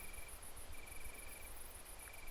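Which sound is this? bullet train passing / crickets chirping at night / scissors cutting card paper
crickets chirping at night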